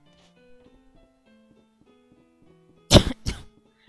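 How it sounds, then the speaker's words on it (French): Two sharp, loud coughs in quick succession from a person nearby, breaking a quiet stretch with faint game music underneath. "Excusez-moi si je tousse"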